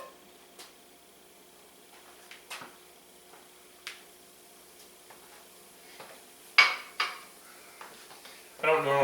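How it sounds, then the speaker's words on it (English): A knife slices peeled shallots thin on a cutting board, giving sparse, faint knocks at uneven intervals in a quiet kitchen, with a louder clatter near the end. "I have a couple shallots that I just, you peel, cut the ends off,"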